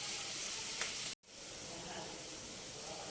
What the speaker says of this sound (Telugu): ఇది కొద్దిగా వేగాలి.